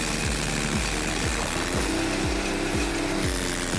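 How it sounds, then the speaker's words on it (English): A professional stump grinder with a 165-horsepower engine grinds a tree stump into mulch, its engine roaring loud and steady under a fast, repeating cutting-wheel chatter against the wood. "A professional stump grinder with an engine of around 165 horsepower."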